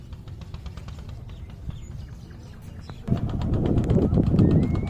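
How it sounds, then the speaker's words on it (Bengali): Birds calling beside a river ferry ghat at Shilaidah, Pabna, during high water: scattered chirps and coos over a steady murmur, growing louder and denser midway, with faint voices in the background. "অনেক অতিথি পাখি দেখা যাচ্ছে।"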